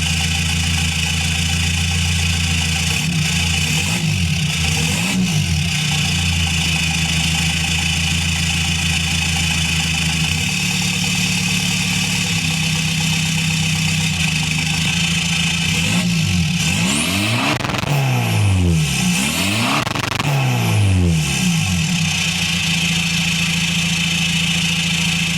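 Engine of a Caddy van running near the mic, a steady idle hum with brief revs that rise and fall midway, alone without talk.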